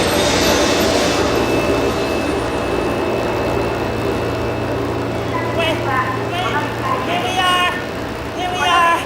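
Train rumbling steadily nearby, a loud continuous low roar with a faint high whine throughout, while voices speak over it toward the end.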